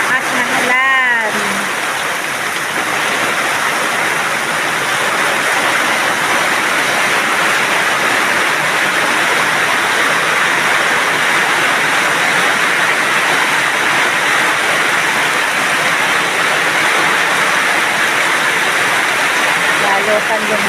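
Heavy rain pours down steadily with rushing runoff water, a loud, dense wash of noise that holds for the whole stretch and builds in strength.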